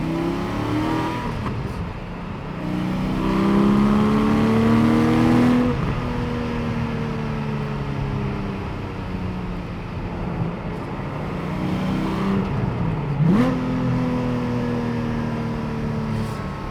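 A Porsche Cayman 718 GT4 with its sports exhaust switched on revs hard from inside the car, rising through the gears with a loud howl, a brief lift and throttle blip, then climbing again in a second strong pull.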